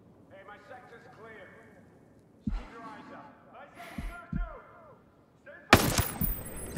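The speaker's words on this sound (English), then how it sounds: "Somehow I managed to get 5 headshots without missing a shot." Gunshots from the video game Ghost Recon Breakpoint, several separate sharp cracks spaced over a few seconds and ending in a louder burst, over a quiet layer of game ambience with birdlike chirps.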